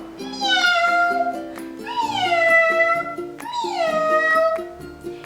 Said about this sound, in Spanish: ¿Cómo hace el gato?